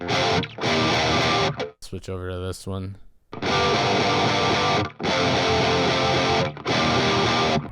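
Distorted electric guitar played through an Audio Assault The Crown amp plugin with EL34 tubes, giving a British, Marshall-like tone with pushed mids. Loud, dense chugging riffs in long bursts, broken by a short quieter passage with brief speech.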